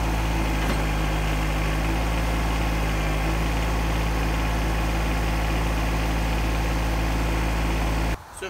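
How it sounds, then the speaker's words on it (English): Small tractor engine running steadily while testing a lift of an IBC tote filled with firewood, a constant close, loud idling drone with vibration that cuts off abruptly near the end. "I better just do a test with the tractor to make sure it can still lift it."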